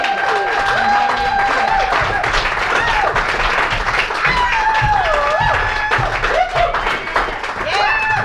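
A studio audience claps and cheers loudly and continuously to welcome a band, with whoops and shouts riding over the dense applause.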